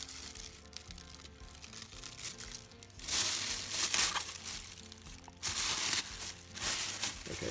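Material being cut into sections for scale model trash bags, crinkling and rustling near and faint, growing louder in rough crumpling bursts.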